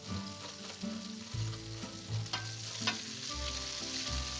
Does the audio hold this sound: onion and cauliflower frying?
yes